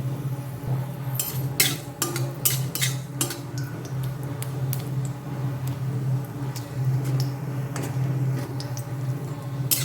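Dried chillies and black mustard seeds crackling in hot oil in a pan for a jute leaf dish, with scattered sharp pops and ticks over a steady low sizzle, busier early, then sparser.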